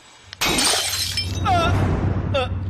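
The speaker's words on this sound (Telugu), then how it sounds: "మన ఆఫీస్ అయితే బల్బ్ పేలినట్టుంది" A light bulb bursts in an office in a movie scene: a sudden sharp glassy pop and shatter, followed by a lingering scatter of sound under a low hum. Voices call out briefly afterward.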